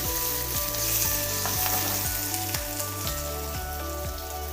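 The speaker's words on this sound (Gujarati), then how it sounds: "હવે જે આપણે મરચાં લીધેલા છે તે એડ કરી દઈશું મિક્સ કરી લઈશું" Chillies are stirred into hot oil with hing and turmeric for a raw tomato and chilli sambharo, sizzling loudly and steadily up close, with rhythmic spoon knocks against the pan roughly every half second.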